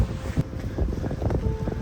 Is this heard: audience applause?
no